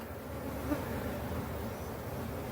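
Honey bees shaken out onto the ground in front of other colonies fill the air with a dense, continuous buzzing swarm drone, loud and close, with no voices.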